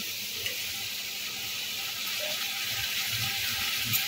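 Sautéed vegetables for veg fried rice sizzle continuously in a hot pan as soy sauce goes in, a steady hiss with faint bubbling and a few soft clinks, no voices.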